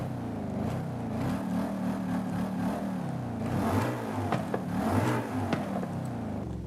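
A car engine fitted with a stock exhaust revs in Forza Horizon 5, a deep continuous drone rising and falling through several throttle swells, loud and close with no talk over it.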